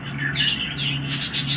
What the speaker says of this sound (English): You're a sweet bird, is what it's saying.